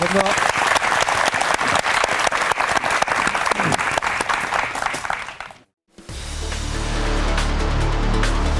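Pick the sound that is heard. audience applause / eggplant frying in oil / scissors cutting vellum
audience applause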